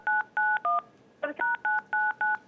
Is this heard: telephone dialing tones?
yes